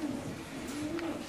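Racing pigeons coo softly and steadily at a distance, a low continuous murmur with no voices over it.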